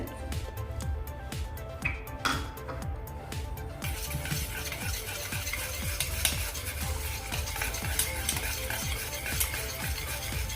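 Cooking oil is stirred into a yogurt, sugar and semolina batter for an eggless cake, giving continuous close wet scraping and sloshing strokes in a steady rhythm, with no talk.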